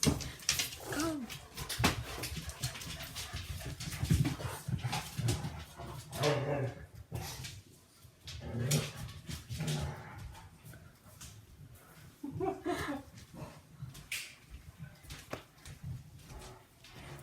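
Several puppies whimper, yelp and pant close by in a busy, continuous jumble of small squeaky cries and rustling movement.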